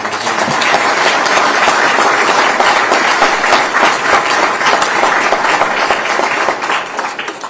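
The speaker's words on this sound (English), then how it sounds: "please give Randy a round of applause" A loud, continuous round of applause from a crowd at a governor's bill-signing event, many hands clapping densely and evenly before tapering slightly at the end.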